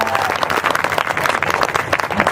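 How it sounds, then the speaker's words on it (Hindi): An audience at a live stand-up comedy show in Fatehpur, Uttar Pradesh claps together in a loud, dense, steady burst of applause that carries on without pause. "अपने लिए ताली बजाइए एक बार स्वयं"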